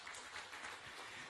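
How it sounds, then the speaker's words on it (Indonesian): A church congregation at a Sunday worship service applauds together, a steady, broad wash of clapping that is fairly faint and continuous throughout, with no voices standing out. "Tepuk tangan bagi Tuhan."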